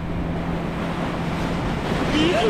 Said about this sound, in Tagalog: Grabe ang hampas ng alon.